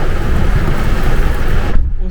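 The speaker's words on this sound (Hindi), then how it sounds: "बारिश खतरनाक हो रही है।" Heavy rain pours down in a steady, dense broadband hiss with low rumbling, loud throughout and cutting off sharply near the end.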